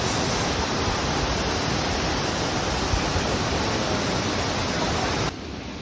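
Waterfall in Mindanao, a steady dense roar of falling water heard close up, unbroken and fairly loud, dropping off abruptly near the end.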